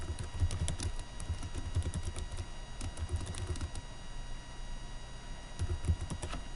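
Continuous typing on a computer keyboard, rapid close clicks in bursts with brief pauses, over a steady background hum.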